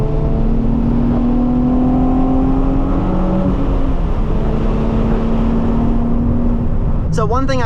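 Nissan 350z engine revving hard above 5,500 RPM, loud and close, pitch climbing through gears with a shift, then a quick squeaky chirp at the end.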